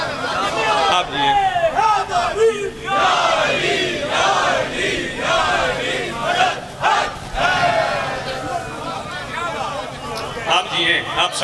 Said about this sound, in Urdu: دونوں ہاتھ بلند کرو، مل کے بولو حیدری